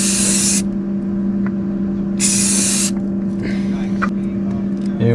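An aerosol can sprays paint onto a DIY Ford GT40 slot car in two loud, close hissing bursts, the first short and the second about a second long, over a steady electrical hum.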